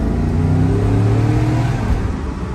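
Recorded from inside the cabin with a window down, the Vortec V8 of a 2009 Cadillac Escalade revs and accelerates, its loud, steady engine roar rising slightly in pitch over a couple of seconds.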